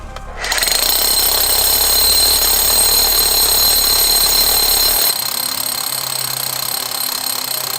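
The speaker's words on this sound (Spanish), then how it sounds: "fuerza para que no se te salte el taladro en las manos." Handheld drill boring into rock inside an emerald mine, starting up after a brief moment and then roaring loud and steady with a high piercing whine, its tone dropping slightly near the end.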